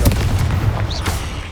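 A Confringo fire spell explodes in Hogwarts Legacy as a single sharp, booming blast followed by a short rumbling tail, close and loud.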